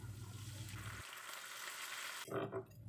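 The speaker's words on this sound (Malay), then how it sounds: "Tumis bawang yang 1 biji itu ya, bawang potong tadi tu. Bawang tu dah masak, masukkan bahan kisar tadi tu ya." Sliced onion and a blended spice paste fry in a pan with a steady, close sizzle; the texture shifts twice as the cooking changes, ending in a brief louder stir.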